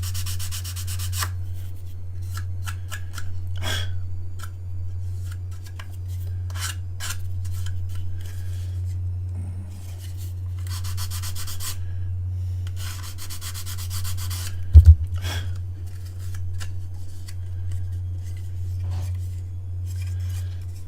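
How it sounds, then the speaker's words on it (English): Repeated rasping scrapes on a plastic Deathwatch Corvus Blackstar miniature model part come in short rhythmic strokes over a constant low electrical hum, with one sharp click partway through. "Excuse the scraping, guys, scraping noises."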